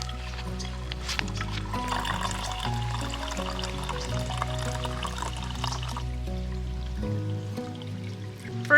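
A flowing stream at a water source along the Pacific Crest Trail gives a steady, soft trickle and babble, with a few other faint sounds mixed in.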